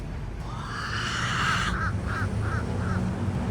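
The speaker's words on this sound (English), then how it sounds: "Good morning, bird." A crow-like bird gives a series of four short, clear caws in quick succession outdoors, fairly distant over a steady background hum.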